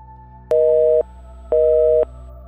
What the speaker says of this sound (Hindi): We're sorry, the number you have dialed is not in service at this time.